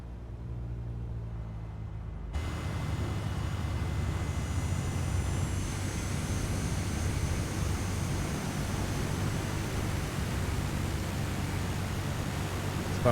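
Aircraft taxiing in Microsoft Flight Simulator: a steady broadband engine roar and whine that rises after a quieter start and then holds constant, close and alone with no talk.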